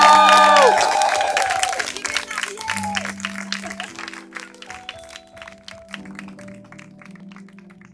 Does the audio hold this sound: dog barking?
no